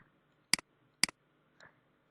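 Two sharp, crisp computer mouse clicks about half a second apart, close and quiet in a calm room, followed by a softer faint scrape or click.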